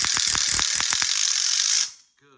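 Rapid ratcheting mechanical whir as a screw is driven tight into a diagonal corner outdoor kitchen module, loud and close, stopping abruptly after about two seconds.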